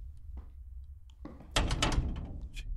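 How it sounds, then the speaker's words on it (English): Locked door rattling in the horror video game Wrong Floor: a few dull knocks, then a louder burst of rattling thumps in quick succession, close and fairly quiet overall. "Even the locked door noise is creeping me out."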